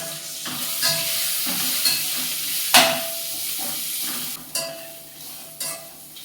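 Onions fry in a pan for vegetable biryani, a steady close sizzle broken by a few scraping stirs and sharp louder crackles.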